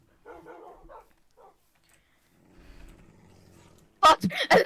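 Minecraft dogs make short game yelps and growly barks, a few faint calls early and then a loud cluster at the end, with people talking quietly in between.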